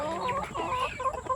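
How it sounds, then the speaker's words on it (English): Backyard chickens cluck and peep close by in a short, busy burst of overlapping calls, with no talking. "here are my little baby chicks now"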